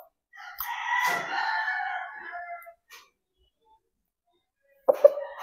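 A single loud, close rooster crow rings out for about two seconds from a bulky, late-maturing gamefowl of the Mamay line, followed by silence and a brief clucking burst at the end.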